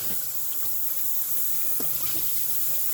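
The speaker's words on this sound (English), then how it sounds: "You rinse my hands off." Hands are rinsed under a running tap, making a steady close rush of water hitting a sink for the whole stretch, with no speech.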